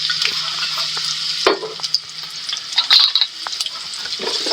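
Onion sizzles loudly in hot oil while pork igado is cooked, a close, steady frying hiss broken by stirring clatters from the pan.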